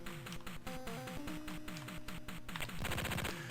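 Rapid bursts of computer-generated gunfire from the 1993 Tandy Color Computer 3 game The Contras, steady repeated shots over a looping electronic game soundtrack, denser and louder near the end.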